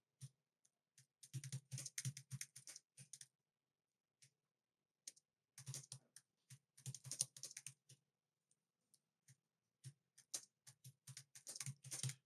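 Quiet typing on a computer keyboard in short bursts of rapid clicking keystrokes separated by pauses, close and alone in an otherwise silent room.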